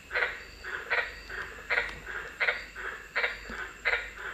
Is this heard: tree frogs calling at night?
yes